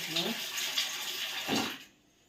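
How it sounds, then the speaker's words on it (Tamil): Water poured over tamarind in a kitchen to soak it, a close, steady splashing pour that runs for almost two seconds and then stops abruptly. "இந்த புளியை இப்போது நம்ம தண்ணியில் ஊற வச்சிடலாம்"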